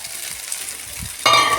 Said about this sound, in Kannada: ಈಗ ಅದಕ್ಕೆ ಅವಲಕ್ಕಿ ಎಲ್ಲ ಹಾಕ್ಕೊಳ್ಳಿ